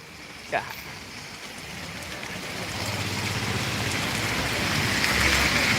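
Rain falls steadily in Ranjangaon, Chhatrapati Sambhajinagar, a constant wash of hiss that slowly grows louder, with a faint low engine rumble underneath.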